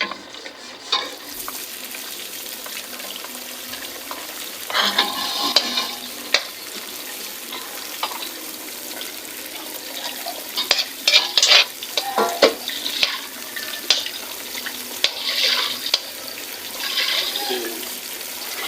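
Garlic frying in a pan for spaghetti sauce, a steady sizzle with bursts of stirring and scraping at close range, no talk.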